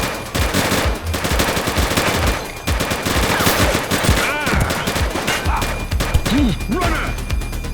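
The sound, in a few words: gunfire in the video game The Precinct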